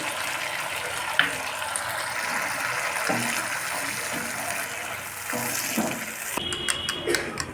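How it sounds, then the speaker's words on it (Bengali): Water poured into frying masala for onion paneer hits the hot pan with a sizzling, bubbling hiss, steady and close, with a few scraping knocks and a brief spattering burst near the end. "মশলাটা ভালোভাবে কষানোর জন্য সামান্য পরিমাণ জল দিয়ে দিচ্ছি"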